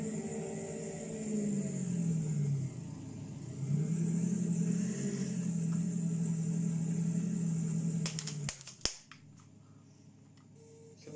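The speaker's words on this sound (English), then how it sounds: "Then put the tractor away." A farm tractor's engine rumbles steadily as it is driven away, its low drone shifting slightly in pitch before cutting off abruptly with a brief clatter, leaving near silence.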